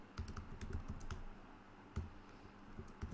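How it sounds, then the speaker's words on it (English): Keys on a computer keyboard clack in quick irregular bursts, close and moderately loud, with short pauses between runs of typing and no talking. "we will type"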